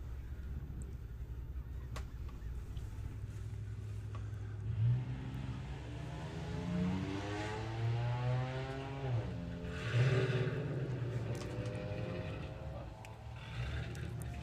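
A VW car accelerates down a drag strip, its engine note climbing through several gear changes, moderately distant and fairly faint over background noise.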